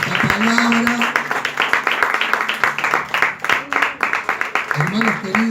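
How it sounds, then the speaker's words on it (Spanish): A church congregation applauds after a sermon, steady dense clapping with cheers and a voice calling out over it, loud and close throughout. "Dale un fuerte aplauso a esta palabra"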